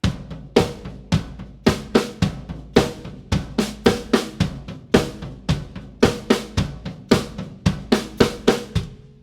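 A drum kit plays a rock groove: punchy bass drum hits with steady hi-hat and sharp accents in a driving, even rock rhythm, loud and close with no talk.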